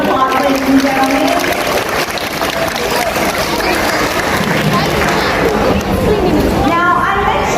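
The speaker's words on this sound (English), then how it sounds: "Let's give him a big round of applause, ladies and gentlemen" An audience at a sea lion show at the Sea Life Aquarium in Mooloolaba claps for Groucho, an Australian fur seal. The applause is a steady, crowded wash that goes on throughout, mixed with chatter.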